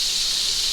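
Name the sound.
cod roe frying in avocado oil and butter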